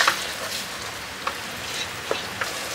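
Spice paste thinned with water simmers in a pan for mutton dhalca, giving a soft, steady bubbling hiss with a few faint pops, close and quiet, with no voices.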